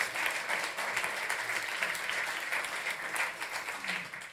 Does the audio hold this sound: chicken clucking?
no